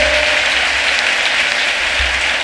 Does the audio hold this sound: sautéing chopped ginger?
no